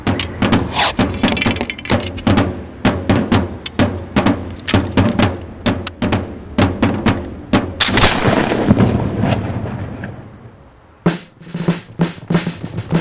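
Infantry muskets firing in a 1707 battle, a rapid ragged volley of many booming shots, some near and some farther off, tailing into a pause and then a few more scattered reports.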